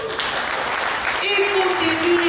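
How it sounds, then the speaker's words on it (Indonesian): A church congregation breaks into loud applause during a sermon, a dense wash of clapping that swells and holds, with a preacher's voice and a sustained tone audible over it. "Tepuk tangan yang keras."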